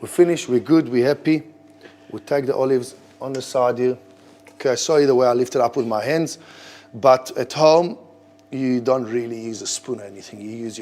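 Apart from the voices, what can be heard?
None of the usual background noises is heard.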